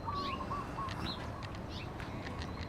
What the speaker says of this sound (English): Many birds. What a way to wake up.